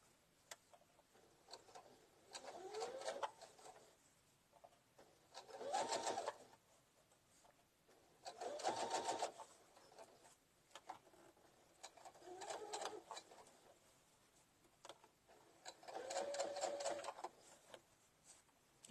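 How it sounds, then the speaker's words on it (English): A sewing machine runs a long basting stitch through a quilted Easter basket in four separate bursts of steady mechanical whirring, each lasting about a second or two, with quiet pauses between them and no talking. "I'm just going to take that and just going to do a big old basting stitch."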